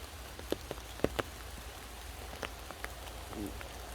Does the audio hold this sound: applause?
no